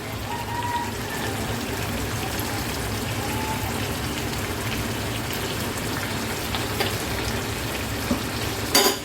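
Beef tripe fries with tomato sauce and soy sauce in a steady, dense sizzle, with a few scrapes of stirring near the end and no talking.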